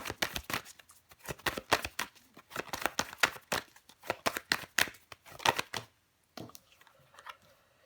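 Tarot cards are shuffled and handled up close in rapid bursts of crisp riffling and slapping, then a short pause before a few softer taps and slides as cards are laid down, with no one talking.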